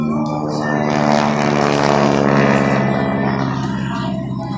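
Aerobatic airplane at an air show slipping past slowly, its engine droning with a steady buzzing tone that swells louder at mid-pass and eases off, heard alone at moderate distance.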